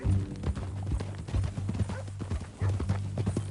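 Horse hooves clip-clopping in Red Dead Redemption 2, a steady close walking rhythm of hoof strikes with a brief pause partway, under game ambience and light talk.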